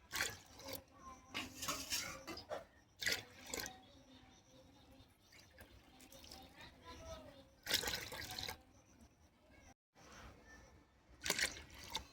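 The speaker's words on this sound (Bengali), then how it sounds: "এই বাটি মেপে 10 বাটি পানি নেব।" Water poured bowl by bowl into a pot of flour: repeated splashing pours with short pauses between them, alongside someone talking.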